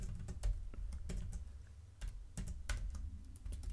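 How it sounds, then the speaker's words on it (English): Typing a text prompt on a computer keyboard, with irregular bursts of close, crisp key clicks over a low background hum. "So I'm gonna type out, let's say, write an article of around"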